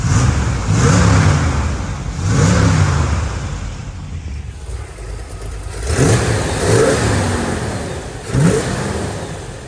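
A 1963 Chevrolet Corvette Split Window's engine revs in repeated throttle blips, four or five rising bursts each falling back to idle, heard close and alone with no talk.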